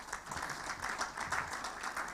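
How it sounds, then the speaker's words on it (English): Audience at a post-graduate award ceremony applauding the graduates, a steady, moderately loud patter of many hands clapping together without pause. "So I think I'll give you a round of applause for yourself."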